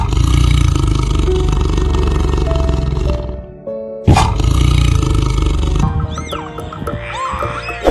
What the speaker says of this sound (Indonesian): harimau